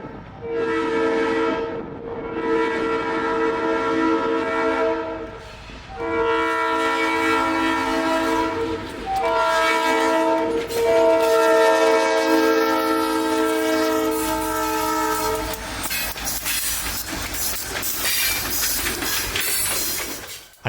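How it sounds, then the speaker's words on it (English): A train horn blares loudly in long sustained blasts on the Hartwell Railroad, with the heavy rumble of the passing train continuing underneath. "Here's our train passing another fan favorite on the Hartwell"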